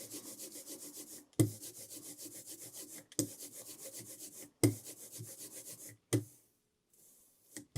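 Sticky, rhythmic rolling passes of thick printing ink with a tacky crackle, four strokes separated by brief pauses, close and moderately loud, ending in near silence.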